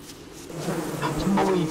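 Buzzing from a swarm of angry bees in the video game Don't Starve Together, a low droning hum that swells louder partway through, with brief higher chirps layered over it.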